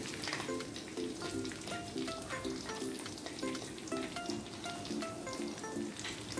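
Soun noodles with green chili stir-fry in a hot pan with sweet soy and oyster sauce, giving a dense, continuous sizzle with regular stirring scrapes and faint background music.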